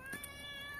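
A hungry house cat lets out a brief, clear meow close by in a quiet room.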